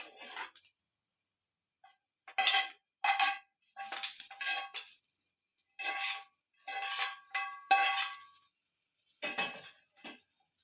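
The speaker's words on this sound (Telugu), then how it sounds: "పోపు వేగినది చట్నీకి మిక్స్ చేసుకుందాం." Fried tempering is stirred into a red chilli and tamarind chutney, giving intermittent scraping, clinking and soft wet mixing strokes from a spoon against a vessel, close and in short bursts.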